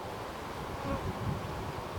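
Honey bees buzzing steadily around an open hive during an inspection, a soft continuous drone close by with faint wind-like rustle and no talk.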